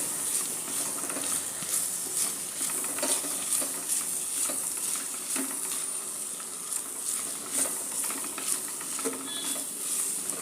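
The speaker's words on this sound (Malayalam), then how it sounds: "സവാള നന്നായി ഒരു ഗോൾഡൻ ബ്രൗൺ കളർ ആവുന്നവരെ വഴറ്റണം" Onions sautéed and stirred in a pan toward golden brown for a Kerala koonthal (squid) curry, giving a steady close sizzle with frequent scraping stirs and light clinks of a utensil against the pan.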